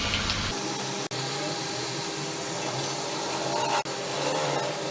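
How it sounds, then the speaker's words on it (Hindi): Arrowroot-coated potato pieces shallow-frying in hot oil for chilli potato, a steady close sizzling hiss with light crackle, broken by two brief clicks. "अब इन्हें पलट पलट के गोल्डन ब्राउन फ्राई कर लेंगे।"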